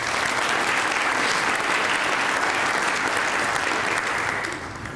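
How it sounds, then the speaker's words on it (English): An audience at a Rotary Club gathering claps steadily in a full, sustained round of applause that tapers slightly at the end. "let's give them a round of applause"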